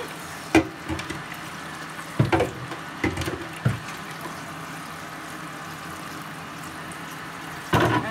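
Water poured over leftover red rice sponge cake batter in a bowl and stirred, soft splashing with a few sharp clinks and sloshes scattered over a steady background hiss, no voices.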